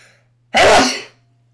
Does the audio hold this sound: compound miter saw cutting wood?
no